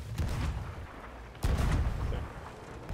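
Cannon fire in a video game: two deep booms, one at the start and a louder one partway through, each rolling into a long low rumble.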